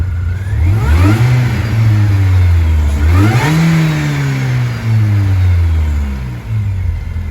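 Supercharged 1.6-litre engine of a Mini Cooper S R53 hatchback revs hard twice, each loud, close run rising and falling with a whining edge over a steady idle.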